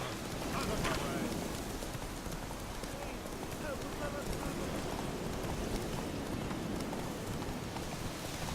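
Steady rain patters down in a constant hiss in The Witcher 3: Wild Hunt, with muffled voices faintly present underneath.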